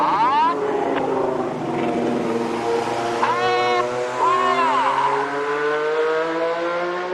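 Royal Air Force Red Arrows jets in a nine-aircraft display overhead at Goodwood Festival of Speed, a loud roaring jet drone with sweeping pitch shifts as they pass, under a commentator's amplified voice.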